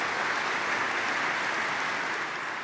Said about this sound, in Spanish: El aplauso lo iniciaron las religiosas, que son las víctimas de nuestras homilías.